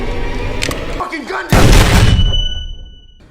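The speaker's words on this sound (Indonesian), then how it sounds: "Pas David coba nenangin dia yang lagi megang shotgun, Mia malah langsung nembak tanpa ragu." A shotgun blast from the horror film Evil Dead. One loud, booming shot goes off at close range after a short tense sound, then fades away into a high ringing tone.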